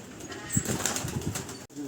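Pigeons with dye applied to their feathers coo softly close by, with a brief flutter of wings and faint human voices underneath.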